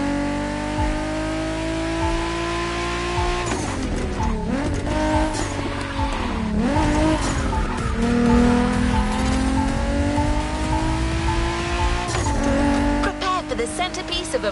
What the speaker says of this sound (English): There's an absolute classic heading your way, a grail among collectors and Jim's greatest pride, the Mustang Boss 429.